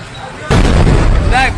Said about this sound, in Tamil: சிலிண்டர் வெடிக்குது